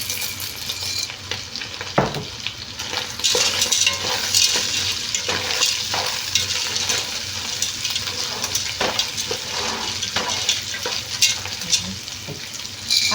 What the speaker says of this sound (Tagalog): maglalagay na tayo ng macaroni. Ayan, pagsabayin ko na